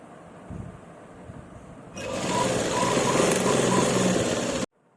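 An electric sewing machine runs steadily, stitching a sleeve onto a shirt with half-inch seam allowance, a loud continuous motor whir lasting about three seconds after a quieter lead-in, then stopping abruptly.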